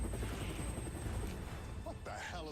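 A helicopter's rotor thrum drones steadily over a dense, noisy action mix, with a sudden whooshing sweep near the end.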